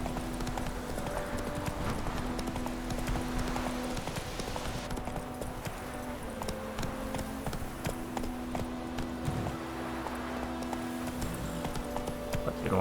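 Horse hooves clip-clopping at a steady gallop in The Witcher 3: Wild Hunt, fairly quiet and continuous with ambient game sound.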